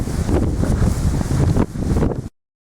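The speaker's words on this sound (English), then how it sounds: "Whoa, windy." Strong gusts of wind buffet the microphone with a loud, roaring rumble, cutting out abruptly at the end.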